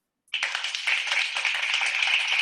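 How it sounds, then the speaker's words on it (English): An audience at a team leaders' sharing event breaks into a sudden round of applause after a moment of silence, dense steady clapping that holds at an even level. "Can we give her a round of applause?"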